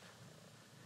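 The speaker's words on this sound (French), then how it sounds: "Tu ronronnes bien, hein?" A cat purrs steadily and close up in a continuous low rumble, with no talk over it.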